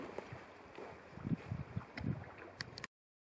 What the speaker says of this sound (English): The wind is coming around this